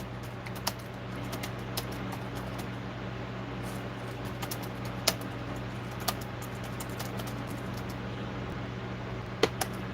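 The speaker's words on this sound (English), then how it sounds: "Type this question out." Clicks of someone typing a question on a computer keyboard, scattered and fairly quiet over a steady fan-like hum, with no talking.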